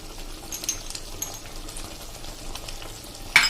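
A spoon stirs cardamom powder into Barboriya porridge in a pan, giving a soft, continuous faint sizzle and scraping with light clinks scattered throughout and one sharper clink near the end.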